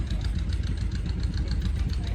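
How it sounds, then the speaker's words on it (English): An old steam engine tractor runs at a steady idle, a low chugging rumble with a regular knocking beat, close and continuous with no talk over it. "They're getting this steam engine all heated up so they can put it back to work."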